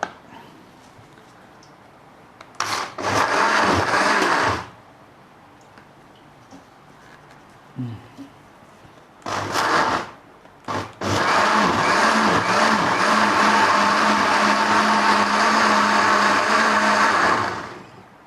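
A kitchen blender whirs through pandan leaves with water in short loud pulses, then a long continuous high-speed run, with quiet gaps between the bursts.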